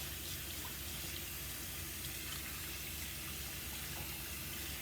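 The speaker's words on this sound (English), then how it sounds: "So let's go ahead and wash it all off with warm water." Warm tap water runs steadily as hands are washed under it, a continuous close gushing hiss into a sink, with no voices.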